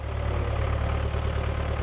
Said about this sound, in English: The sound of this tractor is like a dinner bell to this herd of cattle.